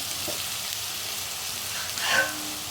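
Potato and yardlong bean stir-fry being mixed in a pan, a soft continuous sizzle with a brief scraping stir near the end.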